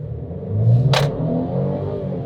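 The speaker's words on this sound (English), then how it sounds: "You do feel the acceleration more on this car." A 2020 Mercedes-Benz GLC Coupe with a four-cylinder engine accelerating, a steady mid-level engine drone heard from inside the car, with a brief sharp noise burst partway through.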